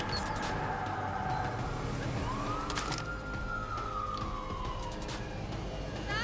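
A police siren in a video game wails and sweeps up and down, loud and continuous, over steady background rumble and engine noise.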